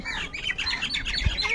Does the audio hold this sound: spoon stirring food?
no